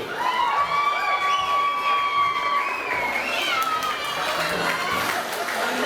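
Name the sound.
wedding guests cheering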